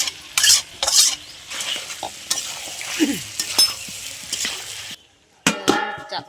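Fried potatoes tip into a pan of chicken and get stirred, with repeated scraping and clanking of a spoon against the pan over a soft sizzle, a brief pause, then a burst of rattling.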